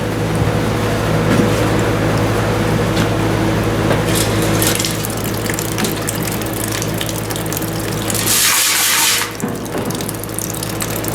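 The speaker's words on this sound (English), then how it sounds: "I'm going to run just a bit of water," Water runs into the fuel tank of a John Deere AR tractor, a steady rushing, splashing flow heard close up with a continuous hum beneath, swelling into a brief louder gush near the end.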